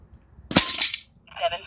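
One sharp, near shot from a regulated air rifle fired at a target dot, a crisp crack with a brief ringing tail and a faint metallic clink just after.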